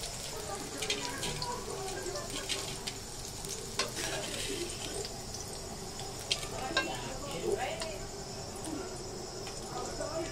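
Sliced bitter gourd (karela) sizzles steadily while frying in a pan, with scraping stirs and spitting pops over a constant crackle, and a voice speaks intermittently.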